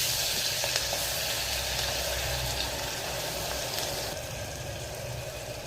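Onion, ginger and garlic paste frying in hot oil for a mutton curry, a steady loud sizzle close to the pan that holds evenly throughout with slight crackles.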